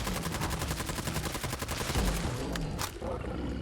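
Rapid, sustained automatic fire from a light machine gun shooting 5.56 rounds in Fallout 4, a steady close rattle of shots with a couple of sharper bursts near the end.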